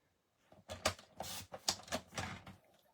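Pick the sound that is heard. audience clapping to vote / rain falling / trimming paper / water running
trimming paper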